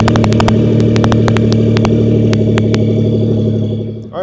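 A BMW R 1250 RS motorcycle engine runs loud and close, with a steady throbbing idle, a rhythmic ticking over it and a short rev near the end.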